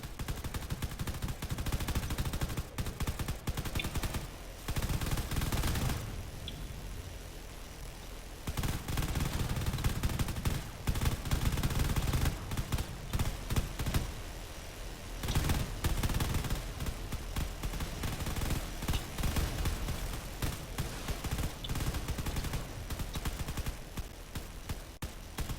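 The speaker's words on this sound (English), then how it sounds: "there's a lot of railgun being fired out" Space battle in a video game, with battleships firing railguns and lasers at swarming fighters: rapid, dense bursts of sharp crackling shots, heavy and continuous, broken by brief lulls near six and fifteen seconds before the barrage resumes.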